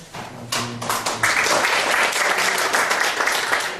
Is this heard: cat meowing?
no